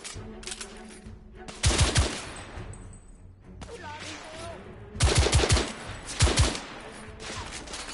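Video game gunfire in The Order: 1886, with loud rapid automatic bursts and single shots in clusters over a background of game sounds and brief voices.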